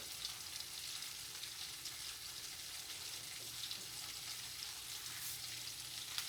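Sliced potatoes frying in a covered skillet, a steady, quiet sizzle and crackle close by with no talk.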